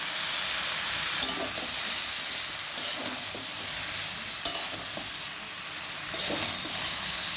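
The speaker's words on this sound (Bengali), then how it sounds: "এবার এতে দিয়ে দেব চিংড়ি মাছ।" Prawns sizzle in a hot pan for a curry with drumsticks, pointed gourd and potato, a steady close hiss broken by occasional clicks and scrapes of stirring, with no talk.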